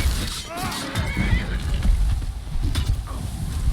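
A horse neighs in a video game, its rising and falling whinny cutting through busy in-game clatter and impacts, with a voice speaking at moments.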